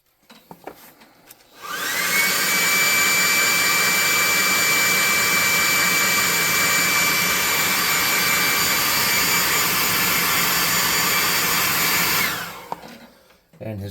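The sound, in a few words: air gun blowing on a painted miniature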